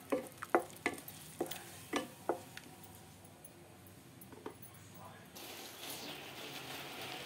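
Utensil scrapes and clinks against a pan while stirring black chickpea kurma, in an uneven rhythm, followed by a steady soft sizzling wash; fairly quiet, no talking.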